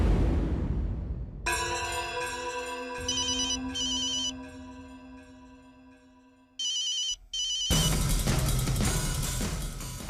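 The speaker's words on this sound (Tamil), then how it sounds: "ஐயா, அந்த மோகினி ஃபோன் பண்றாங்க." A telephone rings in a Tamil television drama scene, a loud electronic melodic ringtone with repeated bursts that stop and restart, followed by a noisy busier stretch.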